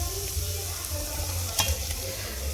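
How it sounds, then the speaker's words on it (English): Chopped onions frying and browning in a pan for chicken korma, a steady close hiss of sizzling oil with a couple of brief scraping stirs, no voices. "keep it for 5 minutes until that raw smell of the onion goes away, until it becomes slightly brown."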